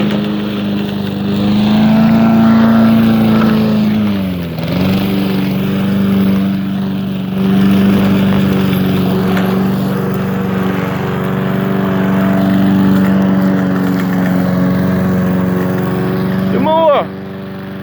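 A self-driving lawn mower's engine runs loud and steady, droning close by for the whole stretch, with a brief dip in pitch partway through. Someone shouts excitedly over the noise.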